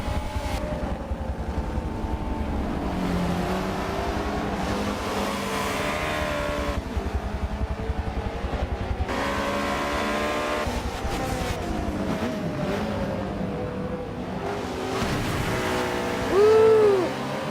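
Race cars at Daytona in a Michelin Pilot Challenge round, heard onboard: a steady engine drone with shifting pitch under sustained road noise and a rising tone near the end.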